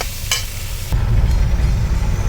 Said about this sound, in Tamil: ஒரு 5 நிமிஷம் வேகட்டும், வதங்கட்டும் வெங்காயம்